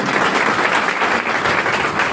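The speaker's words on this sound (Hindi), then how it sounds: "एक बार जोड़ा तालियां" Sustained applause from an audience at a business opportunity program, a dense steady wash of many hands clapping loudly throughout, with no talking over it.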